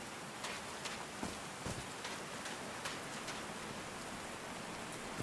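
Steady rain falls in the Call of the Sea video game, a constant soft hiss with scattered sharper drop hits throughout, fairly quiet and with no voices.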